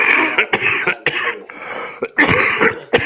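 Repeated coughing fits from a person sick with flu and a cough infection, several harsh close bursts in a row with brief gaps between them.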